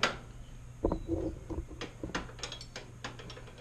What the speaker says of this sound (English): She's just backing up the lock nut right now.